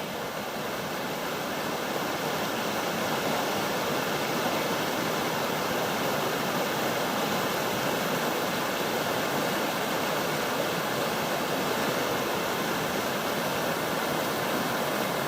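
Floodwater running down rapids over a causeway in the Southern Highlands near Belmore Falls, a loud, dense, unbroken roar of rushing water filling the whole clip without pauses.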